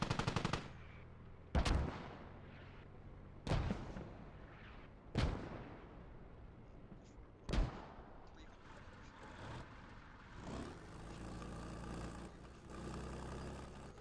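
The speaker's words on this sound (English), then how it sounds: "Got mortars coming in. Look at that mortar barrage." A high-explosive mortar barrage in the military shooter game Squad, five heavy booming impacts spaced a couple of seconds apart, each loud and echoing, then a rumbling wash of engine-like noise with voices talking on comms.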